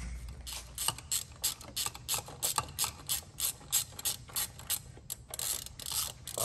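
Ratchet clicking in repeated bursts while loosening valve cover bolts on a 2002 Chevrolet Trailblazer engine, close and crisp, steady back-and-forth strokes with short pauses, no voices.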